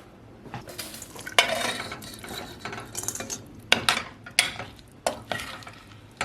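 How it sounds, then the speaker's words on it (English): Pasta stirred into a creamy pumpkin sauce in a pan, with repeated sharp scrapes and clinks of a utensil against the metal over soft sizzling, close and irregular. "And then add the pasta."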